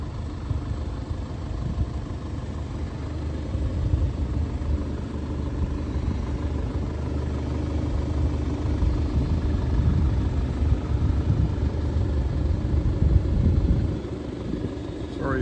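A 2015 Audi TT S-Line Competition with a 2-liter turbo engine and aftermarket exhaust idles steadily in frosty weather at a car dealership, a low continuous rumble heard close up throughout.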